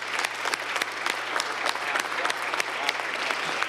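Audience applause fills a Cleveland City Council meeting chamber, dense steady clapping from a crowd honoring families, with a constant low hum underneath.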